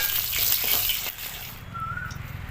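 Fried live koi fish being lifted from hot oil, with a short burst of sizzling and spattering that fades within a couple of seconds to a quieter background hum.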